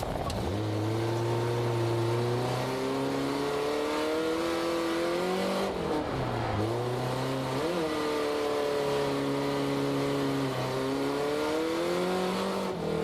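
Drift car engine at a drift competition, revving hard and continuously with rising and falling pitch sweeps through the whole stretch, loud and close, no talking.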